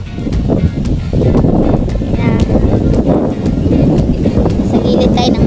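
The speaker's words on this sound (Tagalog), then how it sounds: "Medyo malakas din ang hangin ngayong umaga." Strong wind gusts buffet the microphone on a mountainside trail near Maranum Falls in Natividad, Pangasinan, a loud continuous rumbling roar that persists throughout.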